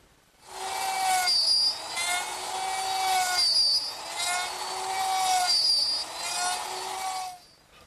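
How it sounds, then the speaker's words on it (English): Router cutting the pins on wooden side pieces for a chair table, a loud whining pass repeated about three times with a tonal scream, each cut separated by brief dips. "Now I just take the side pieces and slide them in and cut the pins with the router"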